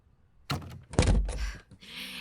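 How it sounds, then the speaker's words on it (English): A door being opened during a tense drama scene: a knocking thunk, then a louder heavy clunk and rattle of the door, followed by a softer lingering hiss, all close and with no talk. "Open the door."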